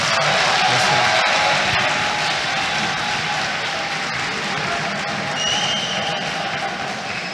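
Applause from an audience for the godmother at a diploma ceremony for the first graduating class of a professional nursing-care degree, a dense steady wash of clapping that holds evenly from start to finish.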